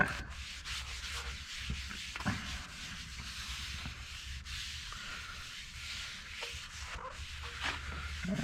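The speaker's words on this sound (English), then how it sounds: "I'm going to hand block it to see where I might need to put another coat of Bondo" Bondo filler on a REO F20 truck body being hand block sanded, a steady continuous abrasive scrubbing with slight rhythmic variation, close up and without talk.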